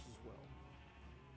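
Faint sheep bleat from Minecraft, a short wavering call over a low game hum, with a voice talking over it.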